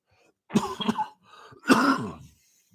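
Two rough, throaty coughs close by, the first a quick double hack, the second a heavier cough that trails off.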